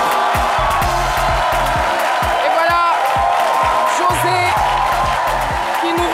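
Studio audience on a French-language midday TV talk show applauding and cheering to welcome a West African music artist, a loud dense crowd sound layered with music and whoops.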